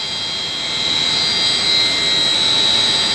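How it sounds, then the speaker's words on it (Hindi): A heat recovery wheel air handling unit, model CLCP, with supply, fresh air, return and exhaust air sections, running as a steady, loud broadband whoosh with a high whine, continuous and close by. "ये सप्लाई है, वो ये हीट रिकवरी व्हील यूनिट है।"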